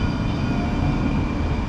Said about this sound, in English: Some kind of electric tram.